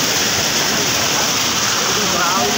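Floodwater from an overflowing stream after a night of heavy rain rushes past, a loud, steady roar that fills the whole clip without a break.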